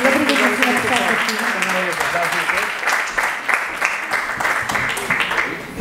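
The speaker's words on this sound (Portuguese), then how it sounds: "Grande aplauso para o enfermeiro André Maravilha." Outdoor festival audience applauding a nurse on a rainy day, a steady wash of clapping with voices and cheers mixed in throughout.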